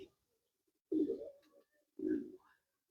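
Two soft, low pigeon coos about a second apart, close by, with quiet pauses between them.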